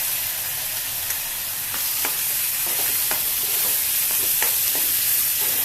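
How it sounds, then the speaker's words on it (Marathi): Cashew and melon seed gravy frying in oil for paneer masala, with a steady close sizzle and crisp spoon stir strokes and taps, roughly one a second. "आता ही फ्राय करायची. जरा हे तेल सुटलं पाहिजे. हे काजू आणि मगज हे फ्राय झालं पाहिजे."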